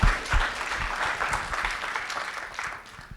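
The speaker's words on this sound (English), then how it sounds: "Please join me in giving him a great round of applause" Applause from a conference audience at VIV Asia 2025 follows a presentation, a strong wash of clapping that starts loudly and slowly thins out over a few seconds.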